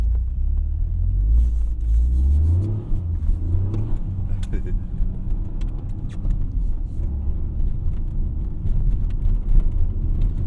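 A Toyota GR Corolla's engine rumbles low and close on a snowy road as a car passes, rising and fading as it goes by, with a voice speaking over the steady drone.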